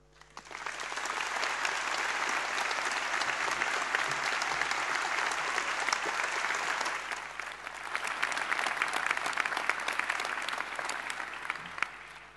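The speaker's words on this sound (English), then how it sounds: "thank you all for your applause." Sustained audience applause at an autumn university graduation ceremony for the Faculty of Education and Social Work, a dense, steady wash of clapping filling the hall, easing slightly midway before swelling again and fading at the end.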